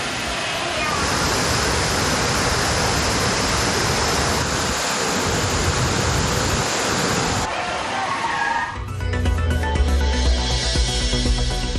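Loud, dense roar of the rushing Thirparappu waterfall in Kanyakumari, close and continuous for about seven seconds before it gives way to music.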